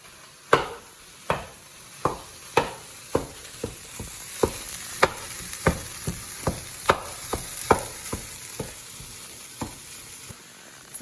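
Fake turkey meat frying in a pan, a low sizzle broken by regular sharp knocks of a utensil stirring and breaking up the meat, about a dozen and a half taps at an uneven rhythm.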